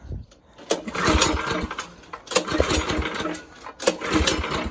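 A Predator 301cc small engine is cranked by hand in several rough, uneven pulls, each a burst of mechanical clatter and rattle that never settles into a running idle.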